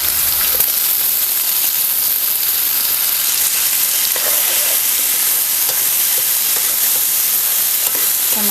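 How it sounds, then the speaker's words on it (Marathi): Chopped garlic sautés with onion in a hot pan for a gram-flour and onion curry, giving a steady, close, continuous sizzle and hiss throughout with no talking. "लसूणसुद्धा आपल्याला कांदाबरोबर चांगलंसं परतून घ्यायचं"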